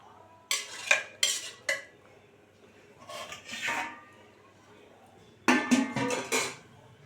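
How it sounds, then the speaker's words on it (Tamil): A metal spoon stirs chicken biryani rice in a cooker pot in a home kitchen, making three separate bursts of scraping and clinking against the metal. Faint room noise fills the pauses between them. "இதை சேர்த்து கிளறி விட்டுட்டு மூடி வைக்கலாம்."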